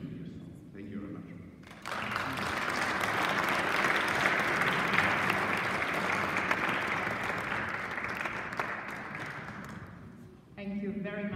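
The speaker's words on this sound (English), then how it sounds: "please join me in a round of applause." Sustained applause from a large audience at a sustainable tourism event fills most of the stretch, swelling and then tapering off, with speech before and after.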